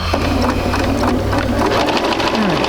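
A sewing machine stitches triangle pieces for a quilt block, running steadily and loud throughout in a close, continuous mechanical whir.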